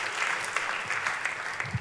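A church congregation bursts into lively, sustained applause, dense and steady clapping filling the room throughout.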